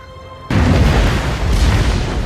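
The crippled spaceship Dark Aster crash-lands on the planet Xandar in a loud, sustained explosive roar. After a half-second lead-in of softer droning, a massive boom hits and a heavy rumbling blast continues to the end.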